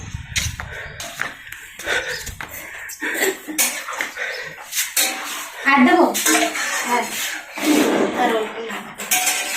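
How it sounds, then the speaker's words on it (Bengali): Pots, pans and metal utensils clatter and scrape nearby as two women cook vegetables together in a home kitchen, with loud irregular clanks and stirring and occasional voices in the background. "সবজি রান্না করছে দুজন মিলে"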